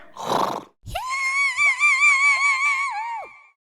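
A person imitates a donkey bray, a loud, close braying with a strong wavering tone lasting about two and a half seconds, preceded by a brief breathy noise.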